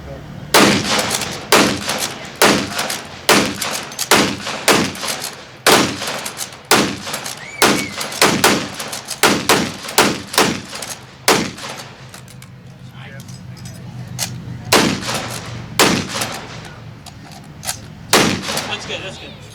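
Bolt-action rifles from a WW2 British Army weapons demonstration fire a rapid string of loud, sharp shots, sometimes in quick pairs, with the action being worked between them and a few more spaced shots toward the end.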